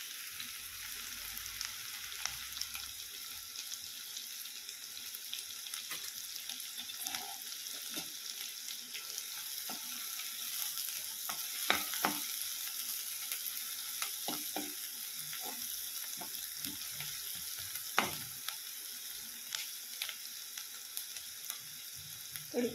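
Onion sizzles in a spoonful of hot oil with cumin seeds in a home kitchen pan, a steady close frying hiss with occasional scrapes and taps of a spoon stirring, alone with no voices.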